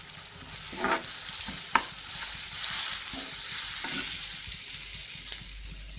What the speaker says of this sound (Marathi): ढवळून बघूया।